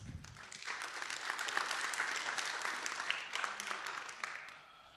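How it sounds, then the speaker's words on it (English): Attendees at a university educational session applaud the sponsors with a moderate, fairly distant round of clapping that swells and then gently fades. "Let's give them a round of applause"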